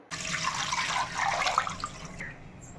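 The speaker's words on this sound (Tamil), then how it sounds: "அதே கப்பில் மூணு கப் அளவு தண்ணி சேர்த்துக்கலாம்" Water pours steadily into a pan holding ration rice, a continuous splashing rush lasting about two seconds before it stops.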